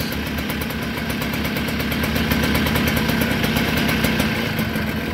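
A 1980 Kawasaki KV75 minibike engine running on its last fuel, a loud, steady small-engine putter with a rapid even beat and mechanical clatter, alone and constant throughout.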